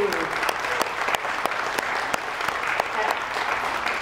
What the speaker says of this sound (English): Round of applause for Michael de Blasi.